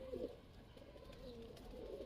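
Pigeons in a loft, a few soft, low coos close by over faint background noise, with no voices.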